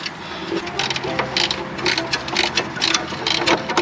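A ratchet clicks rapidly and steadily while tightening 19mm nuts on rear suspension, a close, continuous metallic ratcheting.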